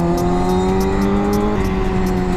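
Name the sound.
motorcycle engine revving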